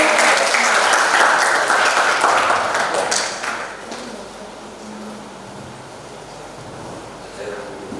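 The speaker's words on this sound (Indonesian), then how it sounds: "Bisa kita tepuk tangannya teman-teman?" Workshop audience applause at a short-story writing session breaks out loud and dense, then fades after about three seconds into quiet room tone with faint scattered claps.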